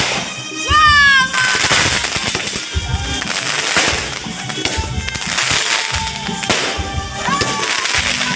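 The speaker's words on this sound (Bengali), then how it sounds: "আসতে দেখো বাজি ফাটানো হচ্ছে, দেখো কি সুন্দর লাগছে না?" Fireworks shells burst at a reception party in a loud continuous barrage of cracks and booms, with rising whistles early on and crackling sparkle between the bursts.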